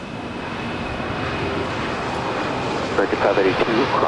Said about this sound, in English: Moss Air 767 now rolling.